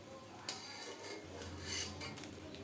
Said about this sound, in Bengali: এইভাবে সব ছানার বড়াগুলো আমি থালার মধ্যে তুলে নিচ্ছি।